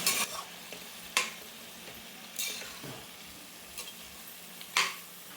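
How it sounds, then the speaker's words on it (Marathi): Potato slices stirred in a hot cumin and green chilli tempering for a fasting dish, with steady sizzling and a few sharp spoon scrapes against the pan at irregular intervals, close up and without voices. "आता फोडणीमध्ये आपण बटाट्याच्या काचऱ्या चांगल्या ढवळून घेऊया"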